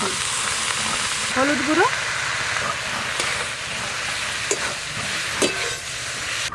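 Pumpkin flowers and chopped onion fry in hot oil, a loud steady sizzle with a few stirring scrapes, while someone speaks briefly over it.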